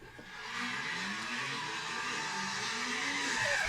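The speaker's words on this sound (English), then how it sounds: "You can hear the car and you can hear everything else." A car drives and skids in footage played back during a podcast, with a steady engine roar and tire squeal running continuously at a fairly loud level throughout.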